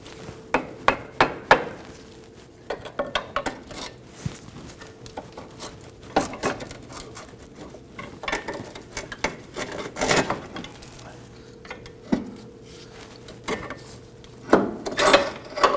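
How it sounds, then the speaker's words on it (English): A pry bar levers out the front lower control arm of a 2008-2011 Ford Focus, giving irregular sharp metallic knocks and clunks, some in quick bursts, with quieter scraping between them. "We're going to use a pry bar on the front portion of the control arm here and just slowly work this out."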